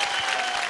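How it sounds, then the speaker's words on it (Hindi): An audience claps in a brief, dense burst of applause at a music competition stage show, steady and moderately loud. "जोरदार ताली।"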